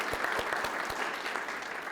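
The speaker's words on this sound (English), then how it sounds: "Let's give them a round of applause." Audience applause at a city State of Maplewood ceremony: a steady, dense patter of clapping from a crowd, fairly close and sustained throughout with no talk over it.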